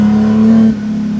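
Engine of a genuine works Austin Healey 3000 rally car, heard up close as a loud, steady, deep drone that eases off abruptly as the driver lifts through a corner.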